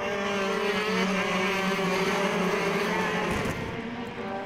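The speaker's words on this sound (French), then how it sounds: "Il emmène dans sa roue Amaury Bonduel, Benoît Pécasse et le reste de ce beau peloton de la catégorie X30 Shifter" X30 Shifter karts racing as a pack: several engines buzz and whine loudly and steadily close by, then fade a little as they pass; no speech.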